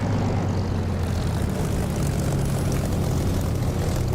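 A Spitfire's propeller engine drones at a steady, loud, continuous pitch while taxiing in the DCS flight simulator, heard close with no talking over it.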